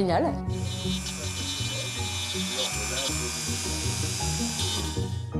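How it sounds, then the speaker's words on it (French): A rotary file grinds down the broken beak of an anaesthetised bird, a steady high-pitched electric whine holding for several seconds with a voice talking over it. "on profite qu'elle est endormie pour en même temps lui limer son bec"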